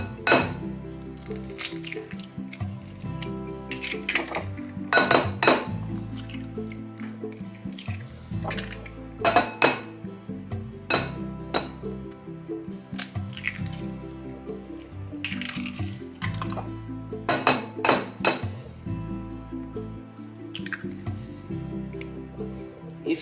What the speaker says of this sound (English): crack 5 eggs into it